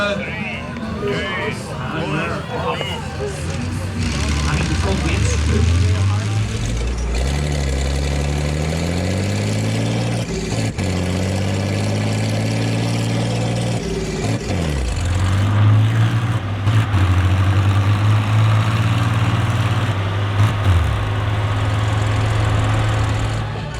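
A pulling tractor at a tractor pull tournament roars loudly and steadily throughout with a heavy low engine drone, rising and falling as it labors, while a commentator talks over it continuously.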